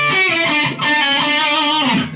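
Electric guitar with heavy distortion playing a short solo lick, sustained bent notes ringing out loud and close, alone without talk.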